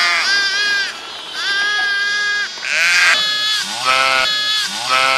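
Sheep bleat repeatedly on a farm, several loud wavering calls following one another with short gaps and overlapping near the end, with no talking.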